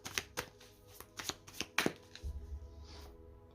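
Tarot deck being cut and shuffled, with a quick run of crisp card riffles and flicks followed by a softer low rustle, close and alone without talk.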